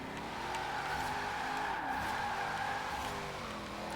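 A car drifting in Forza Horizon 4 with a sustained, wavering tire squeal over a steady engine drone, loud and continuous without talk.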